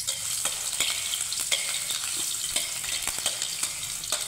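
Ginger sautéing in hot oil in a pan, a bright steady sizzle punctuated by regular sharp taps and scrapes of a spatula stirring.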